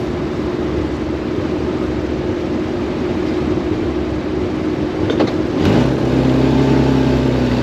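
A Bentley Special's 4.9-litre Rolls-Royce engine idles loudly inside a workshop, its rumble echoing off the walls, then swells into a sharp rev near the end and holds a higher, droning pitch.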